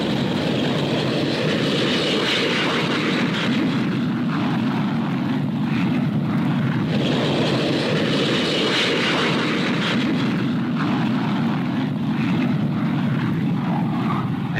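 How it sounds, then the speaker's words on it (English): The Avro 698, the first four-jet delta bomber, flies overhead with a loud, steady engine roar that swells and recedes in broad waves, with no voices over it. "And here it comes, the world's first four-jet delta bomber, the Avro 698."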